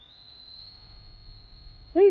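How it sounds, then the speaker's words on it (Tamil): A single sustained whistled tone from the Superman teaser holds steady for about two seconds over faint low rumble, then cuts to a sudden louder sound at the end. "விசில் அடிக்கிறாரு."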